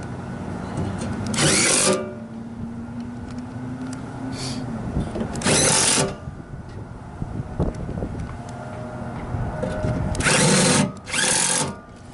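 Power drill driving screws into a Lennox GCS16 rooftop unit, four loud whirring bursts, each a second or so long, separated by quieter handling noise and a low machinery hum.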